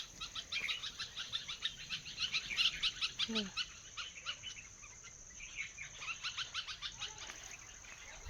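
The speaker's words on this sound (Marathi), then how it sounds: "चिमण्या बघा ना आंब्याच्या झाडावरती" Many sparrows chirp busily and continuously in a mango tree, a dense overlapping chatter of quick high notes over a faint steady outdoor hum.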